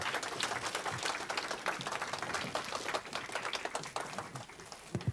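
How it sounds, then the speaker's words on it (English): A live audience claps steadily and densely in a hall, welcoming the spiritual teacher Sadhguru with sustained applause that stays loud and even throughout. "A big round of applause, ladies and gentlemen."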